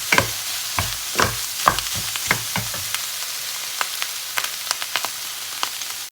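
Vegetables stir-frying in a pan for fried rice with nham, a steady sizzle broken by rhythmic scrapes and taps of the spatula, busier at first, then lighter and more scattered.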